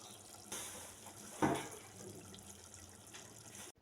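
Rice with masoor and mung lentils being washed under running water, a faint steady tap flow with a brief splash as the grains are stirred, quiet and close with no talking.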